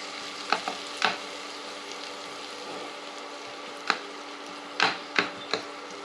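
Ginger paste and onions fry in a pan for Telugu chicken fry, giving a low steady sizzle under scattered sharp clacks as a spoon stirs against the pan.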